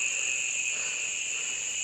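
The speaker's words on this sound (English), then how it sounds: "I love that sound. It's frogs." Frogs call at dusk in the wilderness near waterfalls and swimming holes around Cairns, Queensland, forming a continuous, loud, high-pitched chorus that drones on without a break.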